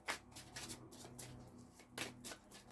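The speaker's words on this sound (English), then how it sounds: "I'm just shuffling, bringing up the energy." A deck of tarot cards is shuffled in quick riffling bursts, soft and close, with short pauses between flurries and no voice.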